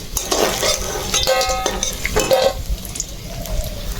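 Pakora are lifted out of hot frying oil, with metal utensils clinking and scraping against the pan over a bubbling sizzle, close and fairly loud.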